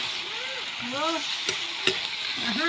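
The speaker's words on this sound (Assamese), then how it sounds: "ভাজিখিনি মই লৰাই দিছোঁ" Mixed vegetable bhaji fries in a pan and is stirred, with a constant close sizzle broken by a couple of sharp scraping knocks as a voice talks briefly over it.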